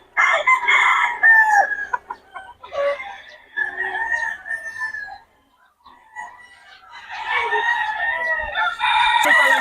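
Roosters crowing and chickens clucking close by at a poultry gathering, several loud, overlapping crows and calls with brief gaps between them.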